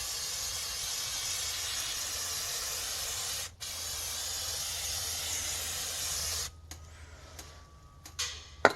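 Fluid Film rust inhibitor sprayed from an aerosol can onto the front brakes of a 2008 Chrysler Town and Country, a steady close hiss lasting several seconds with a brief break, then stopping, followed by faint handling clicks.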